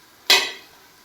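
A single short scrape and sizzle as masala with chopped coriander and mint leaves is stirred in a pan for beef biryani, sharp onset fading within half a second, close and alone.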